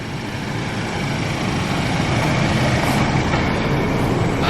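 A Ford truck engine runs steadily and close by, a dense continuous rumble holding an even level throughout with no talk.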